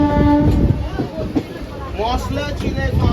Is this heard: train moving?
yes